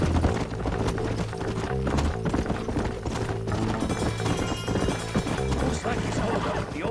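Horses' hooves clip-clop steadily across the whole stretch in Red Dead Redemption, a continuous mid-level trotting rhythm mixed with other game sounds.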